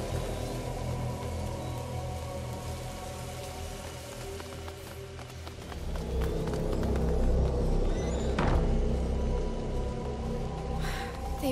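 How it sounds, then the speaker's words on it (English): Rain falls in the video game A Plague Tale: Innocence, a steady patter over a low rumble that thickens and grows louder partway through, with no talk. "Lucas, Hugo, stay out of the rain."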